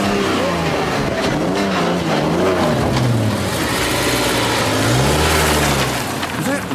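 A car engine runs and revs with rising and falling pitch sweeps, loud and close, while a voice talks over it.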